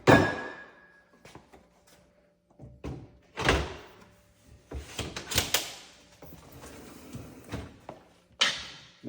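A bottom kitchen cabinet fitted with pull-out drawers has its doors and drawers handled. A series of close wooden thunks and knocks, some sharp and some softer, is scattered irregularly across the stretch, with the door shutting among them.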